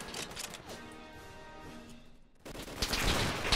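Gunfire in a Roblox D-Day battle game: a dense burst of rapid shots for over two seconds, a brief near-silent gap, then another loud volley of close shots.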